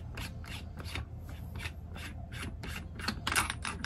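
Handgun barrel being unscrewed by hand, a series of short dry scraping rubs and gritty metal turns in an uneven rhythm, close and fairly quiet with no voices.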